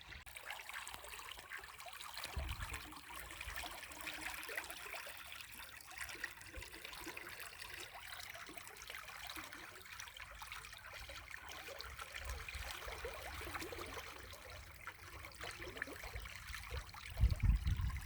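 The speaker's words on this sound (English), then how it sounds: "River's rather fast today." A fast-flowing river in Weem Forest, Scotland, running high after weeks of rain, gives a steady, close, broadband rush of water that holds level throughout with no voices.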